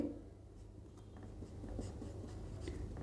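Someone writes out an equation during a Class 10 maths lesson on linear equations in two variables. Faint, soft scratching strokes sit beneath a steady low background hum.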